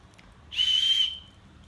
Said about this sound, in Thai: ของรางวัลที่ได้นะะมีนกหวีด